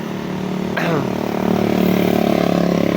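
A Wave 125 motorcycle engine droning steadily while riding a long coastal route, a continuous close hum with a brief rising sweep, under ongoing talk.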